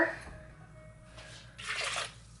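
Half a cup of water poured over cashews in a container, a brief splashing pour with a wet gush near the end.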